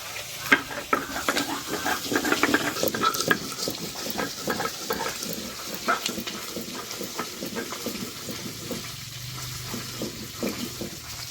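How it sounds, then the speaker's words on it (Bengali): Fish, parshe or pabda, frying in a pan with oil in a Bengali kitchen, sounding as a soft sizzle under busy scraping and clattering of a spatula and utensils, with some watery splashing near the end. "মাছের এক সাইড ভাজা হয়ে গেছে"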